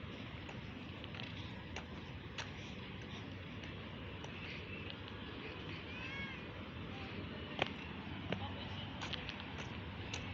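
Cats meow faintly among city buildings, a few thin cries rising above a steady wash of outdoor background noise, distant and quiet throughout.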